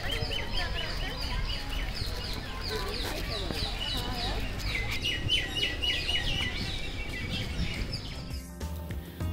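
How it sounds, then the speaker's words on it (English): Birds such as Indian parrots, mynas and woodpeckers call from huge trees around Bhoga Nandeeshwara Temple at Nandi Hills, with repeated bright chirps and squawks over a steady outdoor background. "huge trees, which are home to birds like Indian parrots, mynas, woodpeckers"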